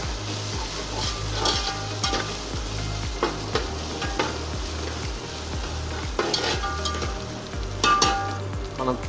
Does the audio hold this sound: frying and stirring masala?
yes